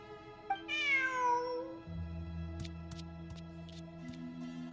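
A single drawn-out cat meow in Genshin Impact, rising then falling, followed by a steady low hum and faint electronic tones in the background.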